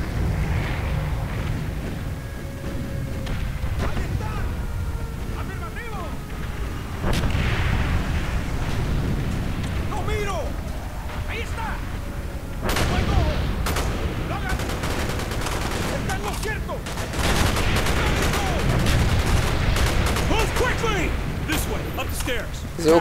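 Gunfire from the Call of Duty Black Ops video game: repeated rifle and machine-gun bursts with heavy booms and explosions crackling throughout, loud and dense, with in-game voices speaking over the battle.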